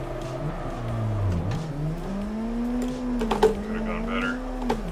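Race car engine in a drifting video game holds a loud steady drone that climbs and falls in pitch, with brief sharp bursts midway, under ongoing talk.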